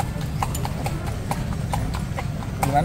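Horse hooves clip-clop in a steady, evenly spaced rhythm during a ride, close and clear over a constant low rumble of background noise.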